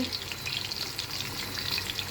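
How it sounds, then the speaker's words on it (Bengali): Potatoes for kacchi biryani crackle and sizzle softly in oil, a steady bubbling hiss up close with no talking. "কাচ্চির জন্য আলু ভাজা হচ্ছে"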